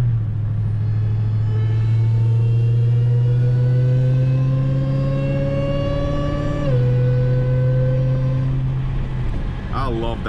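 A supercharged Dodge Charger Redeye Widebody, 1100 horsepower on drag radials, revs up loudly and close with a rising engine drone and blower whine, easing off briefly and building again before dropping away.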